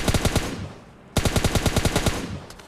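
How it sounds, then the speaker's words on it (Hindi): Rapid automatic gunfire in PUBG Lite, two fast bursts of close, loud shots separated by a brief gap, with the second burst longer and trailing off. "मेरे को पीछे से गन शॉट्स की आवाज़ आती है"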